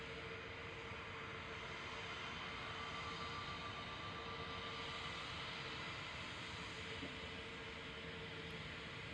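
Pegasus Airlines airliner at Manchester Airport on a sunny, frosty morning, a continuous distant jet engine roar with a steady tonal hum, unbroken and without speech.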